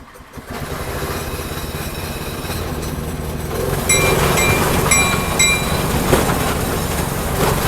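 A model train runs along its track, a steady continuous rumble of motor and wheels that grows louder partway through, with faint high whistling tones layered on top and no talking.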